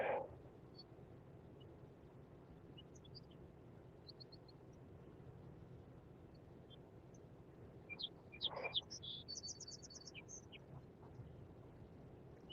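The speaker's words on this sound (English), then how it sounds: "I love the bird sounds back there too." Birds singing outdoors, faint distant chirps and short trills scattered through the clip, growing a little busier toward the end over a low background hum.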